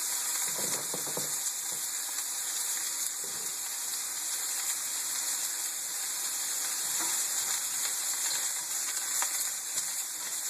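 Broccoli and potato fry in a pan over high heat, giving a continuous bright sizzle with scattered crackles and occasional utensil clatter, near and fairly loud.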